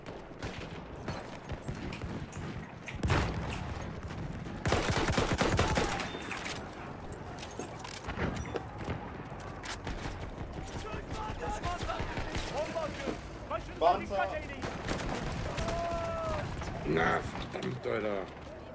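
Battlefield 1 gunfire crackles in scattered bursts and rattling volleys alongside mechanical clanks, while someone talks in German over the fighting.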